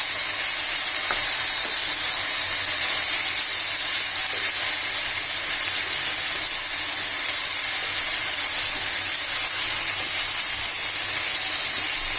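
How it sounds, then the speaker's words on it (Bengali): Potatoes and dried taki fish stir-frying in a hot pan, a loud, steady sizzle and hiss filling the whole stretch, with faint scraping from stirring underneath. "1 মিনিট ধরে আলু এবং শুটকিগুলো ভালো করে কষিয়ে নিলাম"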